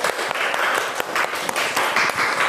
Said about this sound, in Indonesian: Silakan kasih aplaus untuk anak-anak.